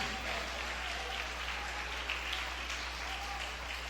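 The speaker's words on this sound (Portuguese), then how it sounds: "Aplauda Jesus." A church congregation applauds during a Bible study on modesty, a soft, steady wash of clapping heard from a distance over a constant low hum.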